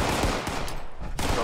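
Explosive bursts from a thrown hand grenade in the video game Fallout 76, a dense rough blast that rumbles across the whole moment, fading slightly before a fresh crack near the end, with no talking.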